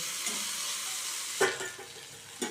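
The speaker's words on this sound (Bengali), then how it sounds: "খুলে একটু নেড়ে দিলাম" Potatoes and eggplant fry in a pan with a continuous hissing sizzle, broken by a few sharp scraping knocks as a spatula stirs them, close and alone.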